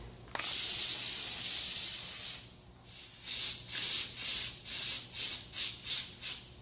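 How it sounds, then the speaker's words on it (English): A long hissing spray from a can of 3M aerosol adhesive onto leather steering wheel pieces, followed by a rapid series of short spray bursts in quick rhythm, close and clear. "I'm going to go ahead and spray some glue on these"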